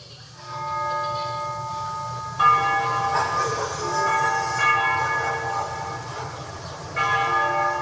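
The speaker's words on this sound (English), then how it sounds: "They ring the bells here at dusk to honor the liberation of the capital." Bells ring at dusk in the video game Ace Combat Zero, layered sustained peals that restart with fresh strikes every few seconds over a low background hum.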